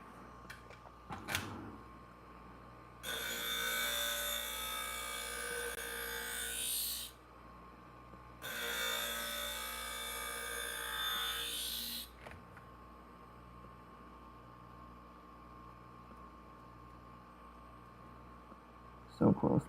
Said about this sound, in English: So I have to grind away that right there as well.